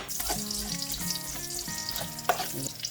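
Garlic frying in a pan with pork, onion and soy to follow, a close, busy sizzle stirred with a utensil that scrapes and taps in quick irregular strokes, with no speech.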